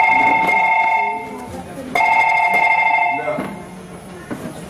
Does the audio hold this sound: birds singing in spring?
no